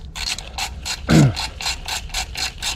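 Steady rhythmic clicking of a ratchet tightening bolts with nuts on a racing sidecar, close up, with one heavier metallic clunk partway through.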